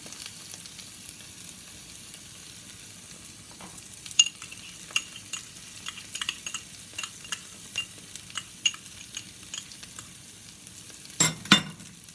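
Bacon and butter frying in a pan make a quiet, steady sizzle. Scattered utensil taps and scrapes are heard throughout, with a sharper clatter near the end.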